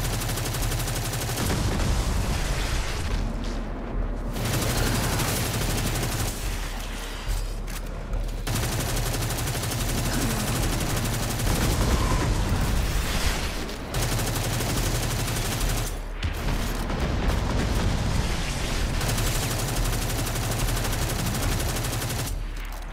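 Rapid-fire gunfire from a fast-shooting weapon in Destiny 2 rattles in long, dense bursts. Brief pauses break it up, and the firing stays loud and close throughout.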